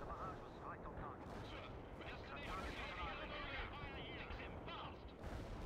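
Artillery and gunfire rumble and crack in World in Conflict during a battle against a Soviet advance on the West Coast, dense repeated blasts and shots under a talking voice.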